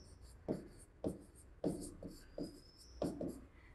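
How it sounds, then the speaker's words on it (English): A pen writes on paper in a quiet room, making about six short scratchy strokes close to the listener, each a brief burst with pauses between. "So I'm going to write Thursday here."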